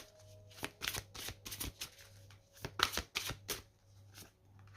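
Oracle cards shuffled by hand in a run of quick, crisp riffling bursts with short pauses between them, close and fairly quiet, with no talking.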